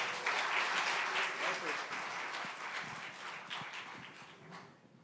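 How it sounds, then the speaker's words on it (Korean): Audience applause at a church worship concert, a full crowd clapping loudly at first and gradually fading toward the end, with some voices mixed in. "하정태 집사님께 다시 한번 큰 박수 부탁드립니다."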